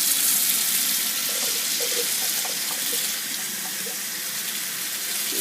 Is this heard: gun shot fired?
no